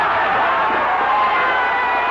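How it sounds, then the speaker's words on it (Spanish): Dense crowd noise of shouting and cheering around a cockpit at a cockfight, a continuous loud roar of many voices with no clear breaks. "Todo fueron gritos y aplausos"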